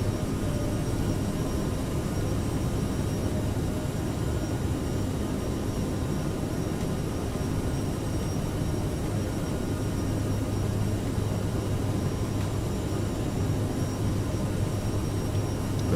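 Steady, loud jet engine roar from an Aerosoft CRJ regional jet climbing after takeoff in Microsoft Flight Simulator, a constant broadband drone with no variation or talk.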